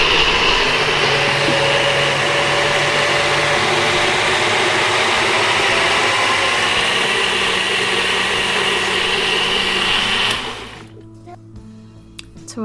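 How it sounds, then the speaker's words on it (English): A countertop blender blitzes jackfruit, almond milk and cardamom pods with a loud, steady whir lasting about ten seconds, then winds down and cuts off, leaving near quiet. "Now I'm just going to pop the blade, just spin that on and blitz it."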